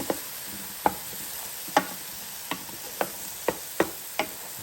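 Eggs and zucchini being stirred in a frying pan, a spatula scraping the pan in steady strokes about every second, with soft sizzling underneath and no talking.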